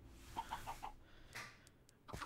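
Soft, quick Minecraft chicken clucks repeat in a short run, faint and a little synthetic, followed by a few brief clicks and a sharper cluck at the end.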